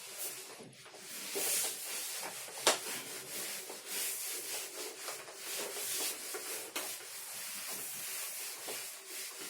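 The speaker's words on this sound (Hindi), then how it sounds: "डायग्राम में रब नहीं कर रहा हूँ, इसको नीचे का डिस्क्रिप्शन रब कर रहा हूँ" A board being wiped to erase written notes, a steady hissing rub with repeated strokes that rise and fall, fairly close and alone without talk.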